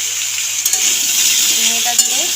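Ridge gourd stirred and fried in a pan with potato, pumpkin and stalks makes a steady, fairly loud sizzle, with a spoon scraping and tapping against the pan a few times.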